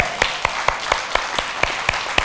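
A church congregation at a Saturday service claps hands in steady unison, crisp regular beats about four per second over a bed of broader crowd clapping.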